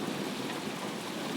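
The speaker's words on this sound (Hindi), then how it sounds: "और कुछ दिनों में मौसम ख़राब होने लगता है और बारिश होने लगती है।" Steady rain falling in a rural village setting, a dense even hiss with no pauses, fairly quiet and continuous, with no voices over it.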